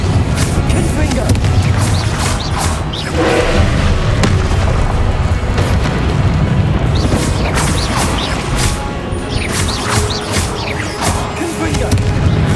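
Repeated blasting-spell explosions from Hogwarts Legacy, booming bursts with crashing debris that recur every second or two throughout, loud and dense over continuous game noise, with a voice heard alongside.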